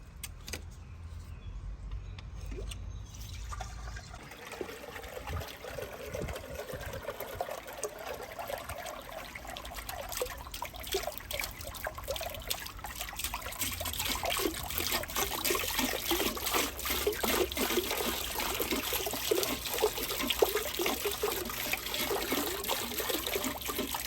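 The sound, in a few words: fountain pump running, water trickling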